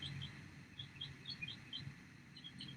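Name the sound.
birds singing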